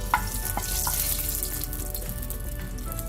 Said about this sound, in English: coconut oil is used. To this, I'm going to add my curry leaves, sliced or slit chilies,